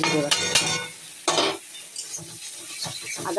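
A spoon stirs salt, spices, tomato and onion into flour in a bowl, making close scraping and light clinking with a few louder knocks against the bowl, and no talking.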